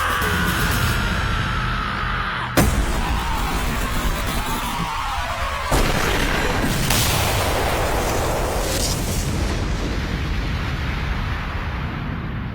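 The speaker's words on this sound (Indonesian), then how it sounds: "Dengan memberikan tegangan tinggi pada gas khusus tersebut, mereka dapat meledakkan seluruh tempat yang tertutupi gas sekaligus." Anime plasma cannon blasts ignite a gas-filled crater, two sharp booms followed by sustained rumbling, roaring explosion noise that fills the whole stretch, loud and dense with no voices.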